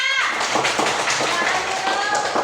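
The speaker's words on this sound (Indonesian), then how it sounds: "Tepuk tangannya untuk Ibnu dulu, mana?" Schoolchildren clap in a classroom to applaud a classmate named Ibnu, a dense patter of small hands mixed with lively young voices and chatter, close and steady throughout.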